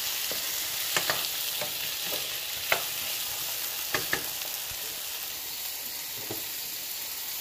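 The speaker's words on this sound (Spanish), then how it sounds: "Vamos a dejar que se sofría muy bien para después llevarlo a licuar." Ingredients for chicken broth sautéing in a pan, a continuous close sizzle and hiss with occasional scraping taps from stirring.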